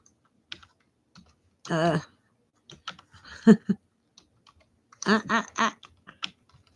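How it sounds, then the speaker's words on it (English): Someone types on a computer keyboard with scattered, uneven clicks and taps close by, while a person talks in short bursts between the keystrokes. "I have trouble typing and talking at the same time."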